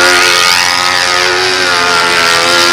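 Engine of a P-51 model aircraft running loud and close, a continuous high buzzing drone with slight pitch shifts as the throttle is worked, with no speech over it.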